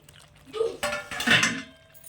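A lid lifted off a pot of simmering chicken korma, giving a couple of close metallic clanks and clinks of lid against cookware in quick succession.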